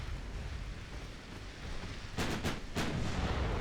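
Warship guns firing armor-piercing shells during a 1904-era naval battle off Singapore in the game Ultimate Admiral Dreadnoughts, a few sharp booming salvos rising out of a steady rumbling background, with no voices.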